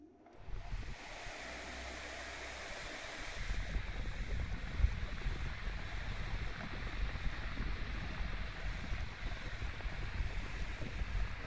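Outdoor wind buffeting a Sony Xperia 1 II phone microphone with its wind filter switched on, a steady low rumble that swells after a quiet start and keeps going with gusty fluctuations.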